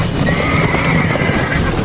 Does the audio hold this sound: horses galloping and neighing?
yes